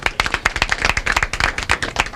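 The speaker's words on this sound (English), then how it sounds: "We can give him a round of applause." Close, sharp individual hand claps from a small audience at a government office opening, an irregular rapid patter filling the whole moment with no voices.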